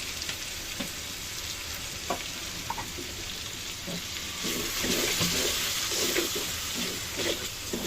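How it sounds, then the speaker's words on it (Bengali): Chili, coriander and garam masala powders with a splash of water sizzle and hiss in a pan while being stirred, a steady soft frying noise with scraping strokes that grows a little louder toward the end. "আর এখন একটু পানি দিয়ে ভালো করে কষিয়ে নেব।"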